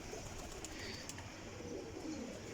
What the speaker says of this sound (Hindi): कबूतर बड़े अच्छे लैके आए जे